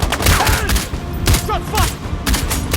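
Gunfire in the video game Sniper Ghost Warrior Contracts 2, several loud, close sharp blasts spaced unevenly, with voices calling out between them.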